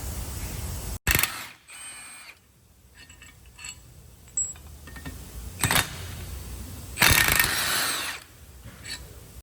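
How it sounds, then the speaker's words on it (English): A 15 mm socket wrench loosens spindle bolts on a 1999-2007 Chevrolet Silverado during a 2-inch lowering spindle install, giving a few separate clicks and tool bursts, with a strong longer burst near the end, mid-distance and without talk. "Got all 3 bolts loose now."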